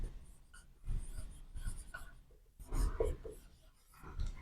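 A marker or chalk scratches across a board during a lesson, with short scraping strokes in bursts separated by brief pauses, close and fairly quiet, with faint breathing in between.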